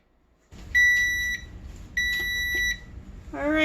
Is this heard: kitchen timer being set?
yes